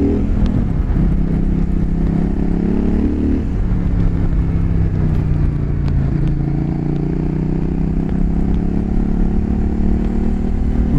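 A CF Moto 800 NK motorcycle engine drones steadily and loudly while riding, with its pitch rising and falling through gear changes and wind rumble throughout; no voices.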